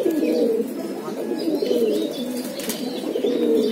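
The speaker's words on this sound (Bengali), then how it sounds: "আমার খুব পছন্দের কবুতর এটা" Pigeons in a loft, including a prized male of a named fancy breed, coo steadily in low rolling phrases, several birds overlapping close by with a few faint chirps and no talk.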